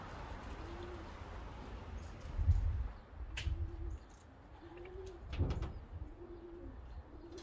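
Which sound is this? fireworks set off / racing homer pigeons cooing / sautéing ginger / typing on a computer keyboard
racing homer pigeons cooing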